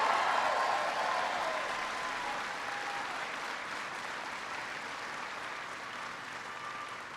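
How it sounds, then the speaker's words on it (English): Audience applause greets a senator at a political speech, a dense, steady clapping that starts loud and gradually tapers slightly over several seconds, with no speech. "Give Claire a big round of applause."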